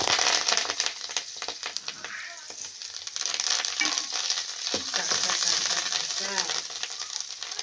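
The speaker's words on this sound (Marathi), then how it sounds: "आता व्यवस्थित फोडणीला देते तडका" Curry leaves crackle and spit loudly in hot oil, a dense, steady sizzle with sharp pops scattered throughout.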